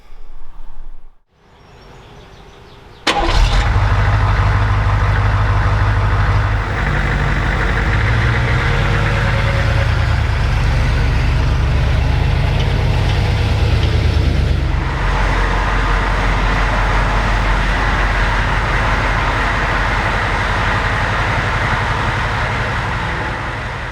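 A HMMWV Humvee's engine fires up after a few seconds of near silence, then runs as a loud, steady, low diesel rumble close by while the vehicle is driven indoors, holding its idle-like drone with no voices.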